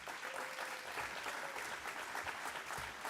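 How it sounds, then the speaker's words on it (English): A rally audience in Sanford applauds for a sheriff, a dense, even wash of clapping from a crowd that holds steady for the few seconds, heard at a distance and fairly faint, with no talking over it. "So big round of applause for him."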